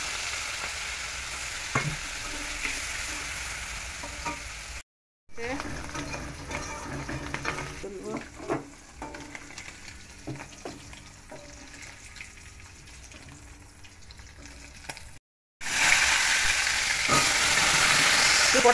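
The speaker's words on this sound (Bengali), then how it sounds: "এবার চিংড়ি মাছটা ভাজা বসাবো।" Prawns fry in a hot pan with a steady oil sizzle, broken by two short silent cuts and the scrape and clink of stirring, before the frying swells louder and brighter at the end.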